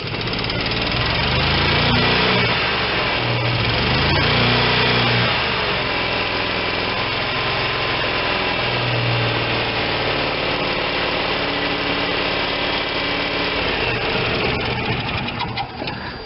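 Kohler Command Pro 25 engine on a Vermeer BC625a brush chipper running steadily with a loud, constant rattling drone and mechanical vibration, not holding full speed because of a faulty throttle.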